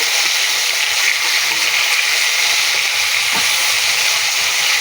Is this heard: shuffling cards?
no